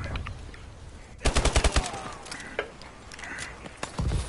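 Short video-game gunfire burst of about six quick rounds in a row, loud and close, followed by a few scattered single shots and faint background game noise.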